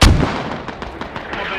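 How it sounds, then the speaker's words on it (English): Rifle fire from an AK and an M4 in a military shooter game set in Afghanistan: a loud close burst at the start, then a rapid run of sharp distant shots trailing off, with no talk. "That was an AK. We just heard right there. And that was an M4."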